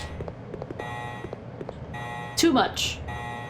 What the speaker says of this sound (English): now we get to hear this alarm for the next 20 in-game minutes until the next in-game alarm